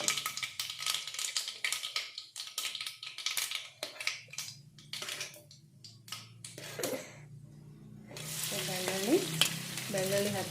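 Garlic frying in a pan for Uttar Karnataka badanekai palya, with stirring and scraping taps mixing into a steady close sizzle that swells louder near the end.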